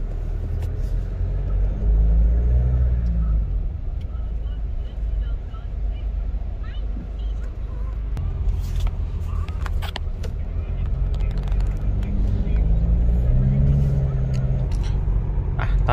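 A car with an electric throttle controller set to mode 0, the factory throttle level, pulls away and accelerates, its engine rumble rising and falling under road noise as someone speaks intermittently.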